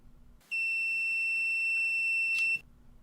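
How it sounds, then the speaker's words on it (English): An ODM LFI 110 live fibre identifier's optical power meter, clamped onto a fiber carrying a 2 kHz tone, gives one steady, clear, high-pitched beep lasting about two seconds before it cuts off. "If the power meter beeps, I will know that I'm clamped onto a fiber that has a 2 kHz tone on it."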